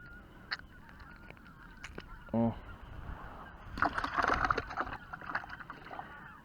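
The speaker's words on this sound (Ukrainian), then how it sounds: "Гуси летять, курличуть." A flock of geese honks overhead, a short call early on, then a louder cluster of overlapping honks in the middle over a quiet outdoor hush.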